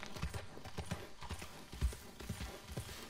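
Horse hooves clop in Red Dead Redemption 2 at an even trotting beat, soft and fairly close, with no other sound over them.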